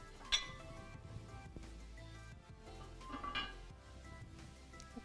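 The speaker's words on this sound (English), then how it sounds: "Stir that all together." A spoon scrapes and clinks against a pot while English peas are stirred into vegetable quinoa, faint and close, with a few sharp metallic taps over a quiet kitchen background.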